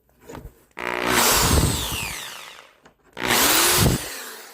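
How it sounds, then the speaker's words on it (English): A power drill bores into a 220-volt AC outlet in two loud bursts, the first longer with the motor whining and winding down, the second shorter after a brief pause. "Now I gotta finish drilling this stuff out now."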